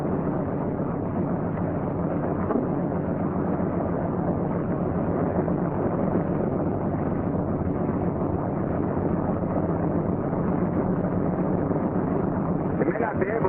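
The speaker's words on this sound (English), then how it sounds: "Now you start the right engine." A troop carrier aircraft's right piston engine starts, giving a steady, loud engine drone throughout with a low rumbling hum and a constant mechanical roar, close and unbroken.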